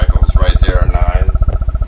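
Low-frequency pulses from a Wavetech infrasonic generator near 5 Hz, fed straight into a microphone, thump loudly and evenly in a fast repeating rhythm, with faint tonal noise drifting above them.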